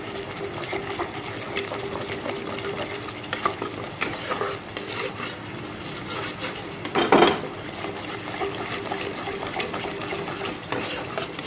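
Ground cumin and coriander masala stir-fried in a pan for a vegetarian Bengali biryani: a low, steady frying hiss with irregular bursts of spoon scraping, one louder scrape standing out, and no talking.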